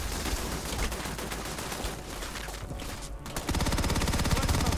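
Gunfire from enemies in the space game Starfield, including a sniper: dense, rapid shots crackle continuously, then turn into a heavier, evenly pulsing burst near the end, loud and without any talking.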